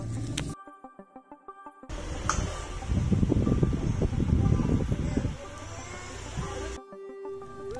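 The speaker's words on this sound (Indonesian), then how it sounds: "Yuk langsung kita lihat untuk angin yang kipas Nico." A Niko 16-inch wall fan blows air in a steady rushing whoosh that swells in the middle, with mechanical switching clicks and tonal hum before and after.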